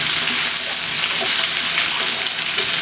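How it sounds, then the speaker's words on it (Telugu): Chopped onions fry with mustard seeds and cumin in a pan for a drumstick-leaf curry, giving a steady, close hiss of sizzling oil that runs evenly throughout with faint soft clinks. "ఉల్లిగడ్డలు పచ్చివాసన పోయేంత వరకు వేయించాలి."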